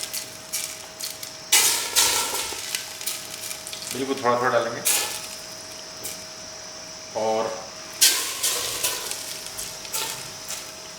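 Bursts of loud sizzling erupt as hot ghee tempering is poured into mutton curry, several surges over a steady faint hum, with a person speaking briefly in Hindi in between.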